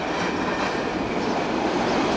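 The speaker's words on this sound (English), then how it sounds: "The train's coming through town, the train's coming through town." A train rolls through town with a continuous, close, loud rumble and rail clatter that holds steady throughout, with no talking.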